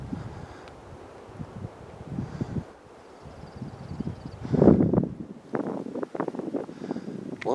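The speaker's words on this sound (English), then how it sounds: "I wanted to capture the wind here." Wind blows across an open mountainside near Crystal Peak at Mt. Rainier National Park, rushing and buffeting the microphone in uneven gusts with a stronger burst partway through.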